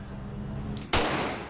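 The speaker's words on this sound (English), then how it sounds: "The firing range echoing with gunfire here at LAX Range and Ammo" A single loud gunshot cracks at the LAX Range and Ammo indoor firing range, preceded by a low rumbling room tone and followed by a reverberant echo that slowly fades.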